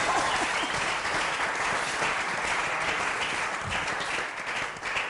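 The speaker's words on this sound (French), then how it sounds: "Est-ce qu'on peut acclamer encore maintenant?" An audience at a religious broadcast with a prophet bursts into dense, sustained applause, many hands clapping loudly and steadily throughout before easing slightly at the very end.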